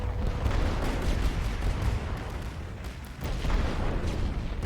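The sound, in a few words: artillery fire in The Great War: Western Front video game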